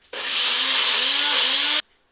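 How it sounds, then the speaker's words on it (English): A blender whirs steadily for under two seconds, blending a thick, pasty healthy chocolate recipe, a loud, even motor drone that starts and stops abruptly. "It's blender time."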